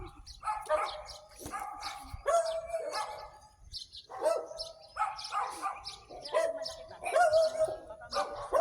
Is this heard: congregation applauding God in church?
no